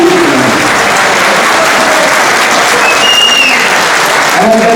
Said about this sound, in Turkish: aramızda bir alkış alalım